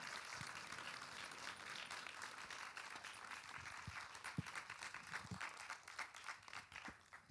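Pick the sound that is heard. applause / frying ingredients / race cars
applause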